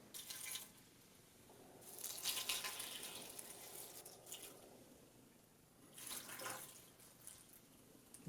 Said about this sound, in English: I'm going to cover these with water.